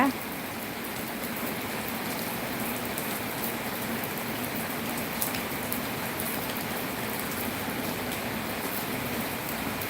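Steady morning rain falls continuously in Thailand, a soft dense hiss of drops on surfaces with no pauses.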